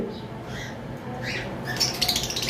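A caged pair of green Fischer opaline lovebirds giving short squawks and chirps, with a busier burst of sharp calls near the end over low room noise.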